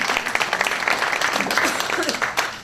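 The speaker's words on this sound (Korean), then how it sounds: "이 타이밍에서 여러분이 혹시나 박수를 보내주시면" Audience clapping during a village travel talk in Suncheon, applauding Daedae village: a dense, continuous patter of many hands close by, with a voice or two mixed faintly under the clapping.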